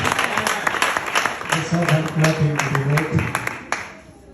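A church congregation claps at a children's gathering at Maranatha church in Kampala, a lively patter of applause with a voice calling out over it before the sound tapers off.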